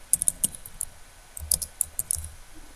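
Keys on a computer keyboard are tapped in short irregular bursts, close and fairly quiet, with brief pauses between clusters of clicks.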